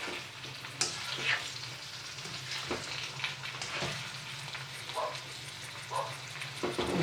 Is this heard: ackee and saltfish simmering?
yes